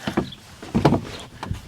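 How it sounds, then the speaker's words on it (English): A squeaky chair creaks in a few short, close bursts of squeaks and groans as it shifts, with no talk over it. "this chair is squeaky"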